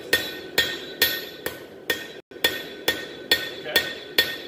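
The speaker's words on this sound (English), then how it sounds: "That's a nice clean hammer work going on there" Hammer blows on hot metal during forging, about ten sharp ringing strikes at a steady rhythm, close and loud, with a short gap midway.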